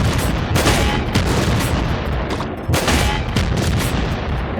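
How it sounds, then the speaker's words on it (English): A Nuclear Throne weapon that fires five projectiles at once, heard as loud, dense bursts of blasts coming in two main volleys, with crackling impacts filling the gaps between them. "I think this shoots 5 projectiles"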